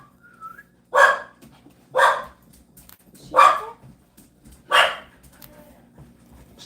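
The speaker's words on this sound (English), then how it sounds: "The dog has spoken." A dog barks four times in a steady, spaced rhythm, each bark loud and close, with quiet pauses between and no talking.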